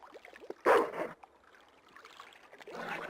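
Guard dog at the docks in the video game Broken Sword: The Smoking Mirrors, giving one sharp loud bark followed by softer growling and yipping.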